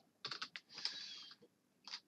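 Close, crisp keyboard clicks as Java code is typed on a computer keyboard, coming in quick clustered bursts with short pauses between them, and no talking.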